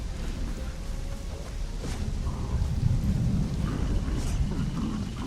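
Steady rain hiss with low rumbling thunder rolling underneath in the video game Conan Exiles, a continuous stormy wash without voices.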